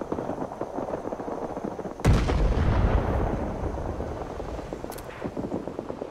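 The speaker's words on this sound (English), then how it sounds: "Artillery coming in." Incoming artillery in Rising Storm 2: Vietnam, a sudden loud blast followed by a long rumbling roll that slowly fades, with scattered gunfire crackling before and after and a second distant impact near the end.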